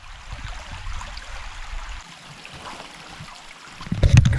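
A small creek runs over bedrock, making a soft continuous trickle and gurgle at close range, with a louder splash or handling noise right at the end.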